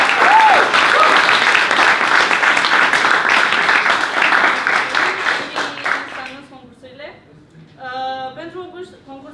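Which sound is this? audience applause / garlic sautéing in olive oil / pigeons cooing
audience applause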